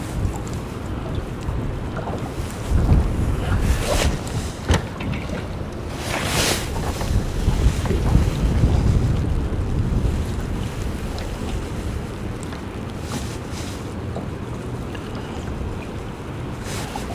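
Wind blowing over open water while fishing from a boat in February, a loud steady rush with gusts, wave wash and microphone buffeting.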